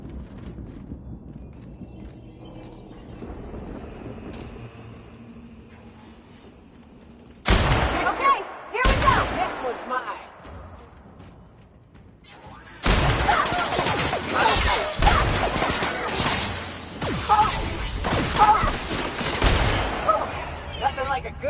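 Gunfire in a PS4 video game, first as short bursts of heavy shooting and crashing, then as a sustained loud barrage of rapid shots and impacts, over quieter game sounds and speech.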